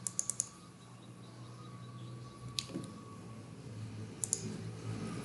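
A computer mouse clicks a few times while navigating menus in mobile testing software, with a quick cluster of soft clicks at the start and a couple more later, faint against a low background hum.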